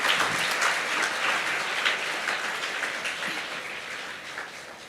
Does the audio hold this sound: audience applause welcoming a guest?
yes